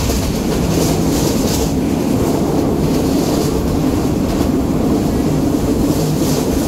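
A passenger train rolls into Chattogram station, a steady loud rumble of wheels and carriages running continuously with faint rail clatter and no speech.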